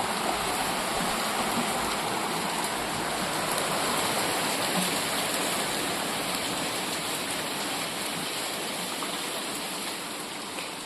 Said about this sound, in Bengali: আর বাইরে বৃষ্টির আওয়াজটা দেখুন।